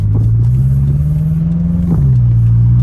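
A turbocharged car engine revs steadily with a rising drone, dips briefly near the end, then holds again; continuous and fairly loud, no voices.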